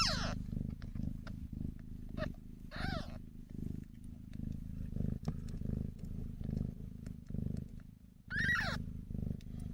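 A litter of kittens purring up close, a soft rhythmic rumbling pulse that continues steadily, with a few faint high squeaks or mews scattered through it.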